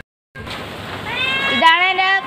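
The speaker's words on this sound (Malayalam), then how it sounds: "അടുത്ത എൻ്റെ പൂച്ചക്കുട്ടിയെ കാണാം" A kitten gives a couple of close, clear meows that rise and hold toward the end, with talking at the same time.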